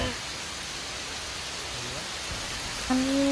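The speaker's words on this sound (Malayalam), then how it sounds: "മഴ നല്ല പെയ്യുന്നുണ്ട്" Steady rain pours down in a dense, even hiss, with a faint tonal sound creeping in near the end.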